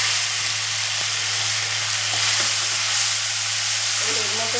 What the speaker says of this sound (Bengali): তেল আছে, এই তেলেতে আমি ফোড়নটা দিয়ে দিলাম। এবারে যে মশলাটা বেটে নিয়েছিলাম সেটা দিয়ে দিলাম।